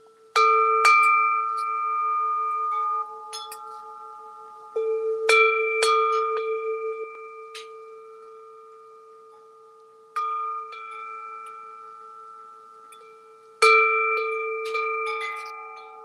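A small bronze alloy bell is struck four times, each strike ringing out with a clear, sustained metallic tone that slowly decays, loud and close with quiet gaps between.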